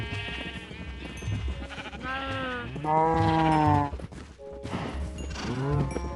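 Sheep bleat repeatedly and loudly at feeding time in a farm barn, overlapping calls rising and falling close by, with someone talking at times underneath.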